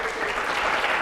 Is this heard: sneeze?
no